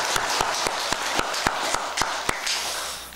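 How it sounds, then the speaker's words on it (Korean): A temple congregation applauding in a Buddhist dharma hall: about a dozen sharp, evenly spaced claps in a brisk, steady rhythm that fade out at the end. "참 보살님들 위해서 박수 한번 주시죠"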